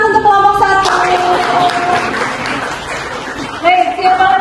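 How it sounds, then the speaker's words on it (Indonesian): A class applauds a student group after its presentation in a teaching session: a dense burst of clapping lasting a few seconds, with a voice speaking just before and after. "tepuk tangan untuk kelompok 1"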